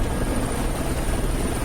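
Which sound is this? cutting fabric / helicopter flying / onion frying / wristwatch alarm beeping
helicopter flying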